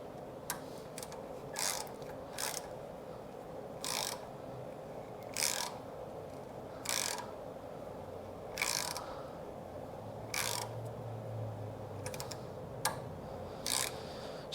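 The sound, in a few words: driving a thread tap into a lawn mower spark plug hole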